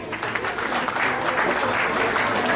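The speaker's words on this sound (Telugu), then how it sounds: "ఇది ఓకే అయితే చప్పట్లు కొట్టండి." An audience claps steadily and densely throughout at a family golden jubilee function celebrating a father and mother, a close, continuous wash of many hands with no pauses.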